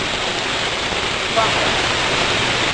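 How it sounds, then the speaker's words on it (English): Water pumped at high pressure spills out of a temporary reservoir across a simulated road surface during a curb drainage filter test, a steady, loud broadband rush that continues unbroken throughout. "the water spills out into the general area to simulate, you know, road conditions better"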